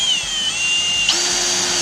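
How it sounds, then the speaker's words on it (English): A regular power drill fitted with a slightly undersized bit bores a pilot hole into an old, dried-out 2x4, its whine held steady and loud, then stepping up in pitch partway through as the bit bites. "I'm going to pre-drill my hole because I don't want to crack the 2x4s"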